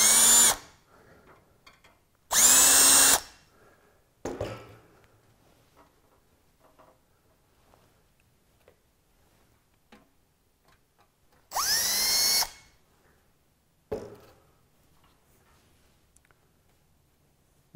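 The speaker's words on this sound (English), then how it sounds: "Okay, we have all of the holes drilled out." A power drill bores holes for car fender skirts, whirring up in three loud bursts of under a second each, pitch rising as the motor spins up, separated by long quiet gaps with occasional small clicks and taps.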